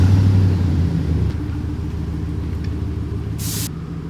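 A truck engine rumbles low and steady as the vehicle pulls ahead, loud at first then easing slightly, with a short hiss partway through.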